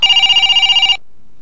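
A telephone bell rings loudly and close in a rapid, steady trill for about a second, then cuts off abruptly into silence.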